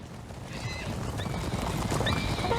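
Provincial cavalry horses in the battle game Empire Total War, with many hooves clip-clopping in a busy rolling rhythm while several shrill neighs and whinnies ring out over the din, no speech.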